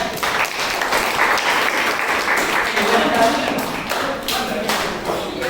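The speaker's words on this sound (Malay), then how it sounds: "Bagi tepukan" Applause in a classroom or training session fills the space steadily, a dense mass of many hands clapping at close range with a few voices mixed in.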